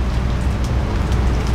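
Rain falling steadily outdoors at a carp fishing lake in South Africa, a dense, loud hiss of drops on surfaces with no voices.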